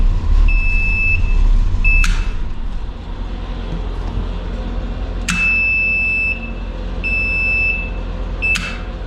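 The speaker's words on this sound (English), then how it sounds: "The alarms are making me nervous though." An RV engine warning alarm sounds after a cold start: steady electronic tones beep in repeated bursts over a constant engine idle, with a few sharp clicks between them.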